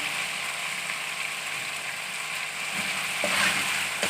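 Charsi chicken karahi cooks with ground black pepper in a pan, a steady moderate sizzle and hiss of frying close by, with a few louder crackles and scrapes toward the end and no voices.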